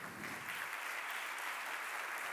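A university audience at the closing ceremony of the Gandia campus's 30th anniversary applauds the rector of the Universidad Politécnica de Valencia as he comes on stage, with steady, even clapping from a roomful of people at moderate distance.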